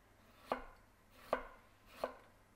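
Three crisp knife chops on a cutting board at an even pace, finely cutting ginger while preparing steamed cod. Faint and close, with nothing else heard.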